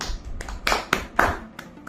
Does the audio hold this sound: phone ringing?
no